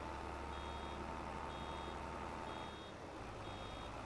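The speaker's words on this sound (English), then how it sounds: "You're beeping like crazy." Reversing beeps from a vehicle in Farming Simulator 22, a steady series of evenly spaced electronic tones over a constant low engine rumble, moderately faint and with no talking.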